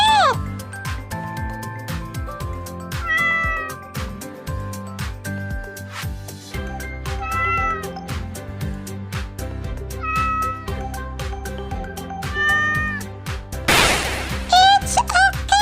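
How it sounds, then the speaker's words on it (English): A cat meows several times in short bursts, heard amid playful background music and a voice asking about animals, with a loud rustle near the end. "It's a cat."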